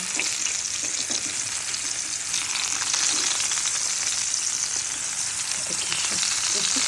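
Food sizzles and spits steadily in a frying pan during home cooking of a festive meal, a continuous close, bright crackle with small pops, alone with no talk.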